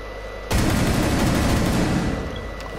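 A single sharp pistol shot cracks out suddenly in a scene from the film Jaws, followed by a long, loud reverberating boom that slowly decays.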